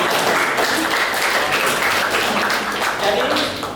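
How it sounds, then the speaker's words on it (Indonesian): Applause from a classroom of students, a steady broadband patter of clapping lasting the whole few seconds, fairly close and dense, with some voices mixed in underneath. "itu ya yang kita beri tepuk tangan ke Noel ya."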